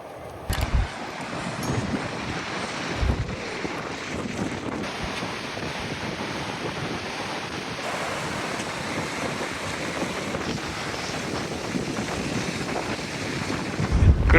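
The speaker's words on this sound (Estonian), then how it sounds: "Kuradi tuul siin on." Strong wind buffets the microphone in an outdoor Australian setting, a loud continuous roaring rumble with gusty swells throughout, briefly louder at the start and end.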